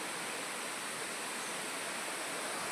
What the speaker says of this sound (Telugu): చుట్టూ కొండల మధ్య ఉన్న వాటర్ ఫాల్ ఇది